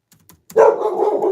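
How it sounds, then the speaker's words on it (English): Biscuit the dog lets out a single sharp bark up close after a few faint taps, then the sound trails off into a sustained whining, yelping tail. "You just barking up a storm."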